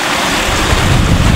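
A river rushes steadily close by at a bathing spot, a loud, dense roar of flowing water mixed with wind buffeting the microphone, with no voices.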